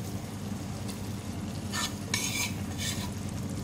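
Mashed chickpeas are stirred into sizzling masala for chana curry, with a spoon scraping the pan in a few distinct strokes over a steady, close frying hiss.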